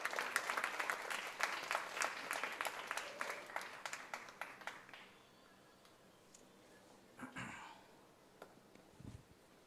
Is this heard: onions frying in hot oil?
no